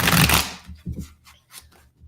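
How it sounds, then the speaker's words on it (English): A loud burst of cards being riffle-shuffled up close, followed by a few softer taps and shuffles. "I apologize ahead of time for the loud shuffling"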